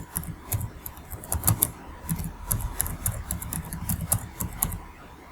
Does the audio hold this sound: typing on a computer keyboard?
yes